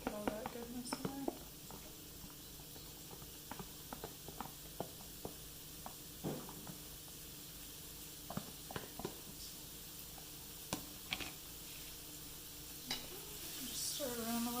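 Food for a pesto fried rice and tofu dinner frying in a pan, a low steady sizzle with scattered scraping and tapping stirs, some sharp clicks near the end, and a voice speaking at the beginning and end.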